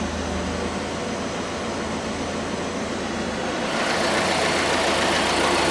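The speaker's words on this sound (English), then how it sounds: "So idling just about right." A 1981 Alfa Romeo Spider Veloce engine idles steadily after tuning, a smooth continuous mid-range hum close by with a slight rise in level and hiss toward the end, no talking.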